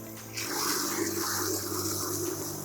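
Car wash solution being agitated in a bucket of water, a steady close churning and sloshing rush that starts abruptly and continues evenly.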